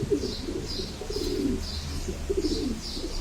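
A homing pigeon coos in soft, repeated low phrases, close by, with a faint background hiss and no talking.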